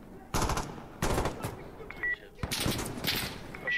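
Bursts of automatic rifle fire in Insurgency: Sandstorm, four or five loud close volleys spread over a few seconds, with short tonal beeps in between.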